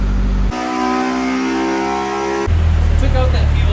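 A K24-swapped Honda S2000 race car engine pulls hard in fourth gear, a loud sustained drone with rising harmonics that shifts abruptly into a rougher, heavier roar near the end.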